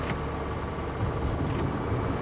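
Engine of a BMW 02 series 1602 heard from inside the cabin while driving, a steady low drone and rumble running continuously at moderate loudness, with a couple of brief clicks over it.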